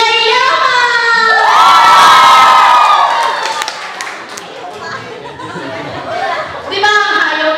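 A crowd of children and adults shouts and cheers loudly, with scattered clapping mixed into the roar. The noise dips midway and then swells again near the end.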